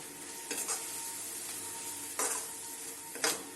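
Masala and tomatoes for egg lababdar sizzle in a pan, with three distinct scraping stirs of a spoon against the metal over the steady frying hiss.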